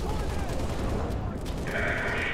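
Sustained automatic gunfire in Halo Reach, a steady loud barrage of rapid shots running throughout, with a bright tonal whine rising over it near the end.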